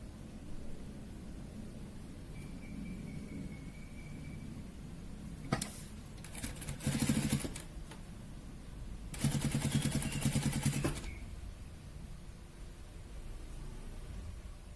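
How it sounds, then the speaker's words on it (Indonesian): A sewing machine stitches long seams along folded fabric strips for a baby dress, running in two short whirring bursts separated by quiet pauses. "Kemudian kita jahit memanjang ke bawah sambil tetap mempertahankan lipatan."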